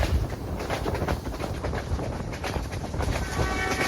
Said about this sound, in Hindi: आप देख लें दूर लगाती हुई ट्रेन की स्पीड बहुत ज़्यादा हो चुकी है